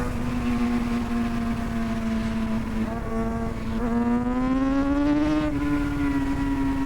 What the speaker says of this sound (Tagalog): Truck. Malaking truck.